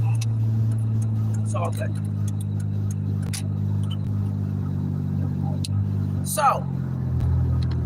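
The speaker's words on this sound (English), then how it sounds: "My car sounds horrible" A car engine idles roughly with a steady low drone and faint irregular ticking, heard close from inside the car while a person speaks briefly over it.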